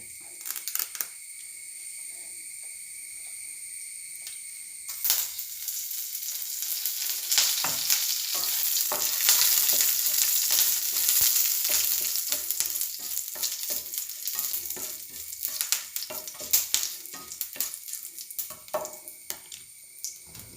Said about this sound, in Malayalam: കടുകൊക്കെ എല്ലാം തെറുക്കിയുണ്ട്